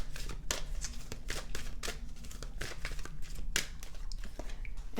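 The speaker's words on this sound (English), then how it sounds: "And now we'll draw one from my deck." Numerology cards are shuffled and drawn from a deck, giving quiet, rapid papery riffles and flicks in irregular bursts, close by with no talking.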